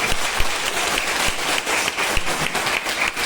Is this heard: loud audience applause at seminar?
yes